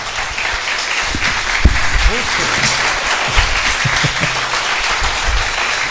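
Applause from a church congregation during a sermon, a loud, sustained wash of clapping with some low voices and murmurs mixed in underneath.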